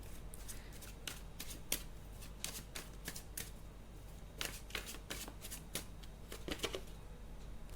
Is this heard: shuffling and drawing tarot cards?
yes